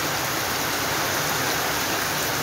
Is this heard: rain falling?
yes